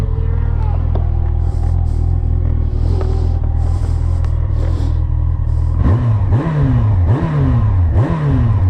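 A 2007 Yamaha FJR motorcycle with a replacement engine idles loudly at close range, then revs in several rising and falling bursts in quick succession toward the end, with no talk.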